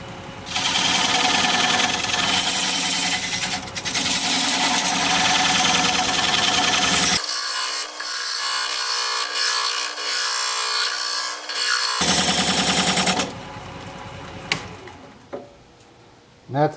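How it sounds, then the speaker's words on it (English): A wood lathe spins a bowl blank while a flat diamond point tool squares up the sides of a tenon, giving a loud continuous scraping and cutting noise that briefly thins to a lighter hiss before resuming. "I've raised my tool rest a little bit so that I can use this flat diamond point tool to"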